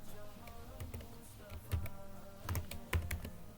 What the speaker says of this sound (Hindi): चैनल का नाम टाइप कर लेते हैं यहाँ